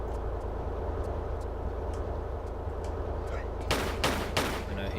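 Enemy gunfire in Tomb Raider III's Antarctica level, a few loud broadband shots bursting near the end over a steady low rumbling game ambience.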